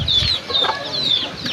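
A rooster in a rural village setting where gamecocks are kept clucks close by in several short, repeated bursts over a low background.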